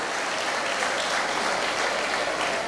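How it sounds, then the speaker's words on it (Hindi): Loud, dense applause fills a welcome ceremony in Pondicherry, a steady wash of many hands clapping together without a break and no voices standing out. "एक बार इनके सम्मान में जोरदार तालियां बजाकर स्वागत किया।"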